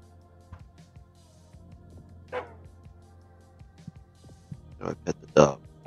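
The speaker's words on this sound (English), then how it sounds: "Hello, dog." Dog in the video game Psychopomp gives a few short, gruff barks near the end, preceded by a single earlier yelp, over a quiet low game hum.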